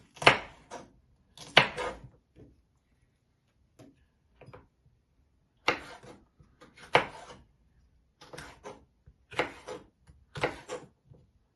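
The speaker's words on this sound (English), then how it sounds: "You can also chop these up as well." A knife chops vegetables for a vegetarian chili sin carne in short bursts of sharp taps on a cutting board, spaced by quiet pauses, each run holding a few quick strokes close by.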